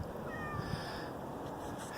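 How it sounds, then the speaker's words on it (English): A neighbor's farm cat gives a faint meow outdoors, barely rising above steady background noise in a short stretch. "This is the neighbor's farm cat."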